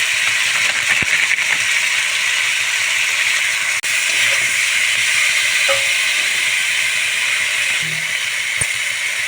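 Tilapia pieces with salt, turmeric and ginger-chili paste fry and sauté in hot oil, giving a loud, steady, continuous sizzle with only faint clinks and no voices.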